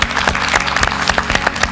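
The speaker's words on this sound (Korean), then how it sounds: "큰 박수 부탁드리겠습니다" Applause from a studio audience closing a televised lecture on happiness, individual claps distinct and rhythmic over a low music-like hum, fairly loud and close.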